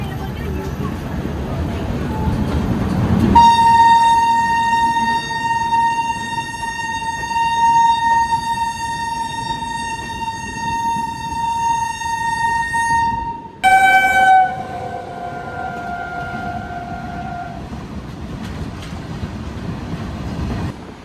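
The Bihar Sampark Kranti Express locomotive horn honks repeatedly in long, loud blasts over rail noise as the train nears Lucknow, the final blasts shifting in pitch before fading into the rumble.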